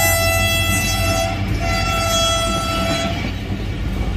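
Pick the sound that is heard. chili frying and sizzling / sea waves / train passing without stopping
train passing without stopping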